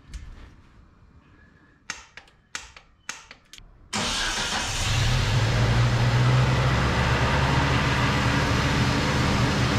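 Several sharp clicks and cranks, then a truck engine barely getting gas catches and settles into a loud, steady rumbling idle that runs unevenly.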